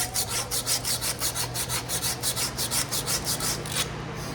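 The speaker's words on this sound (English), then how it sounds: "I'll first do a little bit of work with a wire brush here," A wire brush scrubs a bearing in quick back-and-forth strokes, a steady rasping rhythm with an air compressor humming underneath, stopping abruptly at the end.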